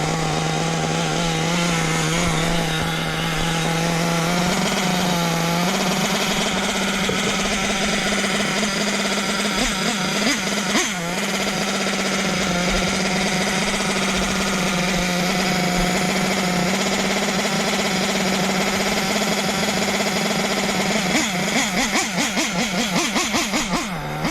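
Small two-stroke engine idling after an idle screw adjustment, a steady buzzing drone that wavers and briefly rises in pitch at a few points, close and alone.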